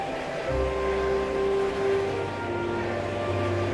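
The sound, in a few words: animated freight train running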